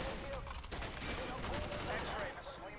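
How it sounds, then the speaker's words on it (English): Rapid gunfire from Call of Duty: Black Ops, a dense spray of automatic shots that fills the whole moment, loud and continuous, with mixed game battle noise around it. "I was shooting at the person."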